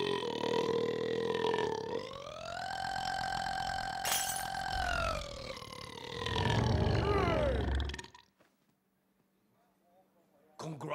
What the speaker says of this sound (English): Longest burp.